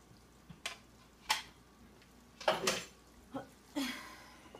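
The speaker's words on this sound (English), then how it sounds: "You just stir the peanut butter in and let it melt in." Peanut butter is stirred into a hot pot, with a handful of short, soft scraping swishes spaced irregularly over a faint background hiss.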